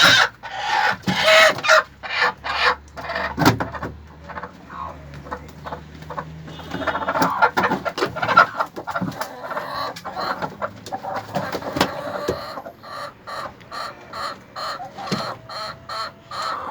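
Native chickens and turkeys in a coop squabble over space, giving a busy mix of overlapping clucks, squawks and sharp calls close by, with no talk.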